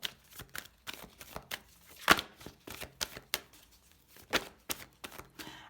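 Playing cards from a 32-card deck being shuffled and drawn, a series of crisp riffling and snapping bursts at an irregular pace, fairly close and quiet.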